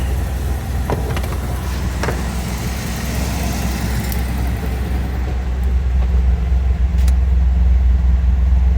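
A car engine running rough on the choke while warming up, a steady low rumble with faint uneven pulses, continuous and close throughout.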